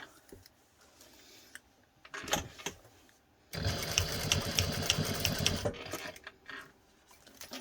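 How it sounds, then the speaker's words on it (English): A sewing machine back-stitches a cat collar close to the buckle, running in a short burst, pausing, then a longer steady whirring run with rapid ticking needle strokes, near and fairly loud. "We're going to do a back stitch, like front and back a couple times, just like we just did, as close to the buckle as we can go."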